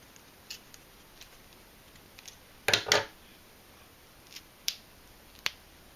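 Scissors cut through small cardboard rectangles in a few sharp, isolated snips with one louder double crunch, close and crisp against a quiet background.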